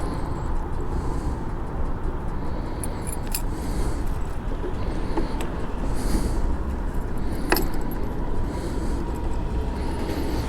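Keys jangle and click while a motorbike is locked in a store parking lot, a light metallic rattling that runs over steady background traffic noise, with no talking.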